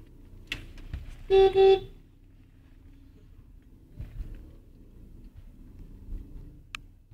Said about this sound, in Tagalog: Busina ka.